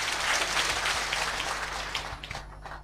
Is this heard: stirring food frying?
no